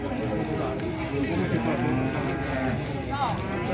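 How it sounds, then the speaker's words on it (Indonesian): Cattle at a livestock market moo under a busy crowd, one drawn-out low bellow sliding in pitch amid continuous chatter and shouting nearby. "Baru diusahakan masuk yang sapi hitam itu."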